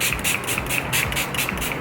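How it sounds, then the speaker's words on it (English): Short pulsed hisses of Too Faced Hangover setting spray misted from a pump bottle, several quick rhythmic sprays close to the microphone with no talking. "now we're gonna spray it with the Hangover from"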